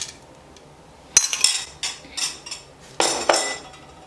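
A spoon clinks against a bowl while an ingredient goes into a banana mixture: a few sharp, bright metallic taps and scrapes in short bursts, close and fairly loud, with quiet gaps between.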